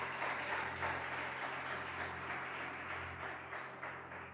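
A church congregation applauding during a sermon, dense continuous clapping from a large crowd that holds steady and fades slightly toward the end.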